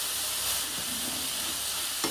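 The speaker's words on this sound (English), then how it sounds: "pork's frying off nice." Pork mince frying in a pan, a steady close sizzle with faint stirring, alone without talk.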